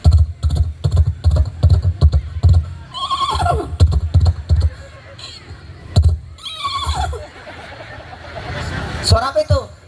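A voice imitates a horse neighing, producing several descending whinny-like calls between stretches of loud talk, with the crowd of a Maulid Nabi religious gathering murmuring and chuckling around him.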